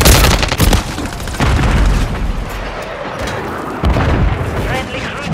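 In a Call of Duty MW3 match, a fuel-air explosive strike sets off a run of loud, heavy booms one after another. The blasts are close and rumbling, with a faint voice underneath.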